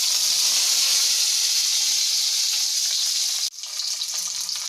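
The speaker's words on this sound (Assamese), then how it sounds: "ইয়াতে মই পিঁয়াজটো দি দিম। তেলটো গৰম হৈ আহিছে" Onion sizzles and fries in hot oil, a loud, steady broadband hiss that cuts out abruptly near the end and then resumes more faintly.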